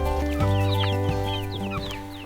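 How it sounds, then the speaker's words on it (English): Several hens cluck and squawk close by in a steady, overlapping chatter, with occasional higher calls breaking through. "Good morning, chickens."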